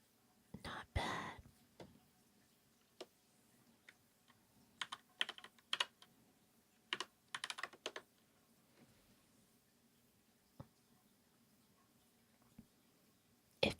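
Soft, quiet typing on a computer keyboard comes in scattered bursts of light clicks, close up, with whispered chatting at low volume and hushed pauses between them.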